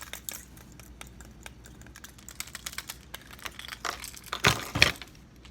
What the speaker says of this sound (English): This one, I could actually hear the joint clicking.